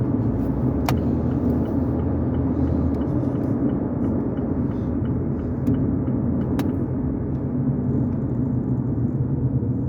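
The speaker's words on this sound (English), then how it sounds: "this car in front of me is dropping a lot of gravel." Car or truck driving on the road just ahead, heard from inside a moving vehicle as a steady, loud engine and tire rumble with a few faint clicks of gravel, no talking.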